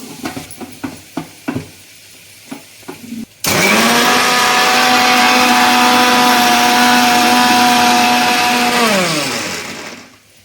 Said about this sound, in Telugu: టమాటాలు, ఎర్రగడ్డలు అన్నీ మిక్సీకి వేసుకున్నామండి.